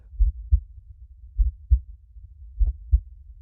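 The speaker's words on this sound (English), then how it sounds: "There is now only your heartbeat" A human heartbeat thumps softly and close in steady lub-dub pairs, three double beats in a slow, even rhythm with nothing else heard.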